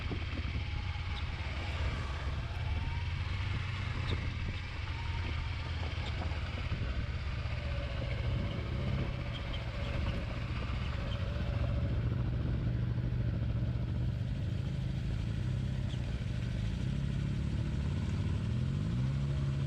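An adventure motorcycle ridden standing up on a rough trail hums steadily nearby, its engine note rising and falling with occasional clatter, and no one talks.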